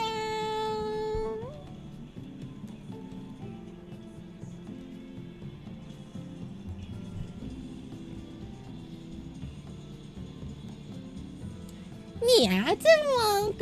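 A person imitating a cat with a drawn-out meow at the start and a louder wavering meow near the end, with quiet sounds in between.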